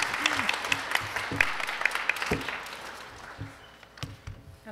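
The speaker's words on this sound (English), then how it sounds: "Clap for Armand, yeah." An audience at an academic symposium on media claps in a steady burst of applause that slowly fades, with a few voices mixed in.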